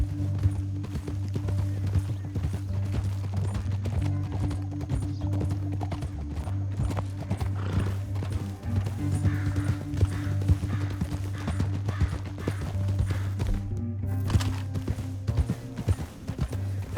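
Horse hooves clip-clop steadily in Red Dead Redemption 2, a continuous rhythmic trotting that carries on throughout under loud background game sound and music, with no talk.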